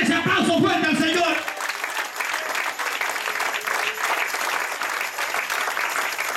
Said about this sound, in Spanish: Den ese aplauso fuerte al Señor.